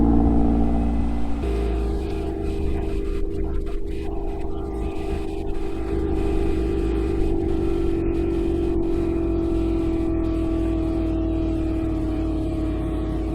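An LS V8 swapped into a BMW E36 idles after a cold start with a steady low rumble and a slight settling of pitch early on, close and continuous throughout.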